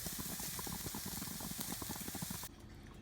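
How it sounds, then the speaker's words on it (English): Ribeye steaks searing in a hot pan, a dense steady crackle and sputter of fat filling about two and a half seconds before dropping abruptly to a quieter hiss, with no voices. "But about a minute per side just to sear them."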